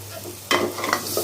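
Bottle gourd with chili powder and green chilies, for a prawn curry, is stirred in a pan: a near-silent moment, then a burst of scraping and sizzling that carries on loud and close, with no talk.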